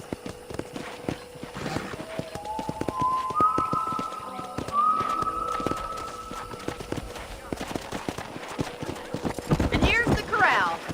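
Horses at a ranch corral in the video game Red Dead Redemption, with steady hoof clip-clop and a brief whinny near the end, heard under ongoing talk and background game music.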